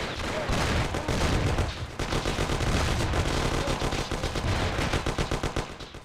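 Gunfire rattles through a shootout in Mafia: The City of Lost Heaven, with close, rapid machine-gun bursts and overlapping shots going on steadily for several seconds.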